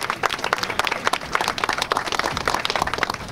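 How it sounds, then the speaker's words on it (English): An audience at a ribbon cutting for 914 United's Leaders Lab soft opening applauds, a dense steady patter of many hands clapping close by, sustained without speech. "So give them a quick round of applause as well."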